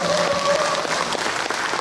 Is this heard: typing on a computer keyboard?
no